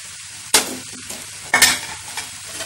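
Homemade noodles stirred in a pan over low heat with spring onion and lemon, two sharp, loud scraping stirs about a second apart over a light background sizzle, close and without voices.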